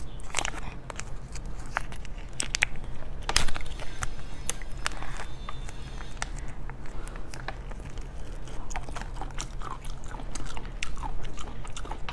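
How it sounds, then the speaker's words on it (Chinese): Spicy fish strips bitten and chewed up close, with steady crunchy, crackly bites and chewing repeating throughout over a constant low background hum. "鱼丝， 这个香辣口味的"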